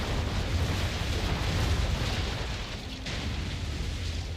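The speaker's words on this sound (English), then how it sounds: "Fire the cannons, damn it." Ship cannons firing in the Assassin's Creed 3 video game, a dense, loud roar of broadside blasts rumbling continuously with no clear breaks, heard alone without talk.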